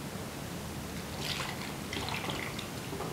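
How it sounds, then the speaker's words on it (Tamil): Buttermilk pours into a pot of ground-paste curry, a soft continuous trickle with a few brighter splashy bursts, close and fairly quiet. "தேவையான அளவு மோர் சேர்த்துக்கலாம்"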